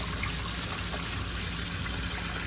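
Water drains and trickles steadily from washed peas in a home kitchen, a continuous close splashing flow with no voices.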